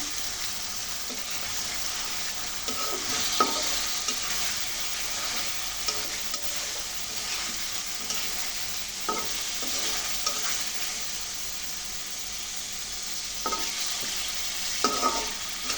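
Fish frying in a pan with green tomatoes, a steady close sizzle running throughout with occasional stirring clicks and scrapes, no voices.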